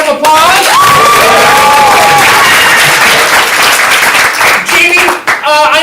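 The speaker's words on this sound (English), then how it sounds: "Jamie Montgomery, give him a round of applause." At a comedy improv showcase, the audience breaks into loud, close applause with clapping, cheers and a few whoops, sustained throughout and dipping briefly near the end.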